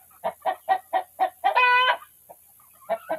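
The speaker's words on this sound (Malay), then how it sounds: "Inilah ayam. Ayam hutan." Wild junglefowl clucking in a rapid series of about six short, evenly spaced clucks, then a longer drawn-out call, a pause and two more clucks, close and clear with no talking.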